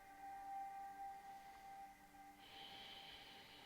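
Audible breathing in a restorative fibromyalgia yoga class, faint and close, with a soft hissing exhale in the last second over a low steady room hum.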